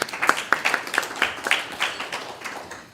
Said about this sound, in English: yes, a round of applause for them